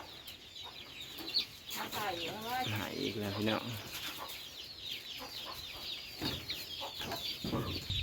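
Chickens clucking outdoors at a rural farmyard, several birds giving short repeated clucks at close to middle distance, with people talking over them throughout.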